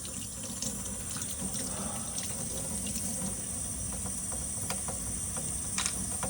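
Tap water runs steadily into a sink as a small paint cap or nozzle is rinsed, keeping a constant broadband hiss throughout with faint clinks near the end.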